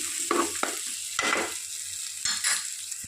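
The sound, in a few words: onions and mint frying in a pan for chicken curry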